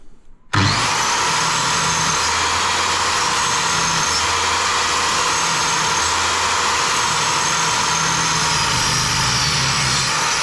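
A power saw cuts architrave trim for a toilet doorway, spinning up sharply and then holding a loud, steady high whine close by for the full length, with a low hum beneath.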